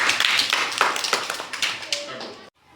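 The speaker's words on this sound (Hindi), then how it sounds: "तो एक बार जोरदार ताली हो जाए।" Loud, rapid clapping from a Class 4 environmental studies lesson, a dense flurry of sharp claps close to the microphone that thins out and stops abruptly near the end.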